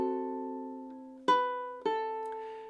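Ukulele plucking measure 4 of a song: a held note rings and fades, then two separate plucked notes follow about half a second apart, each decaying cleanly, close and fairly soft with no talking.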